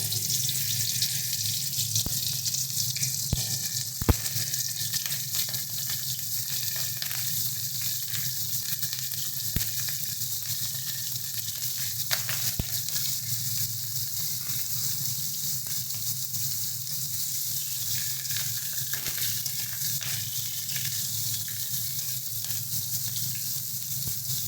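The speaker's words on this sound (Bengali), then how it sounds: "এবার ফুলকপিগুলো দিয়ে ভেজে নেব।" Cauliflower pieces fry in hot oil with a loud, steady hiss. The sizzle stays continuous and close throughout, with occasional sharp pops and ticks, and no one speaks.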